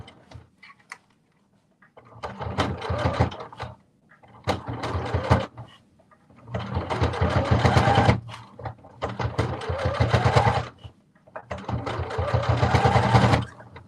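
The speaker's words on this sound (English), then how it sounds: "I'm just creating my casing. By creating a top stitch all the way around the upper edge" Sewing machine top-stitching around the upper edge of a slipper casing in five rapid whirring bursts, short at first and then longer, separated by brief pauses, close and clear.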